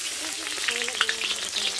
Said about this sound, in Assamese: গাহৰিখিনি বাইদেৱে তেল নিদিয়াকৈ ইয়াতে বনাই আছে কেৰাহীত